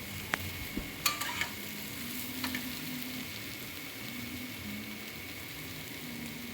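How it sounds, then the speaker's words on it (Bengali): Poppy seed paste with kohlrabi and potato sizzles steadily in a pan, with a few light scraping stirs early on and a constant soft frying hiss throughout, no voices. "এটাকে ভালো করে আমি নেড়ে এর সঙ্গে মিশিয়ে দেবো, দিয়ে একটু কষে নেবো"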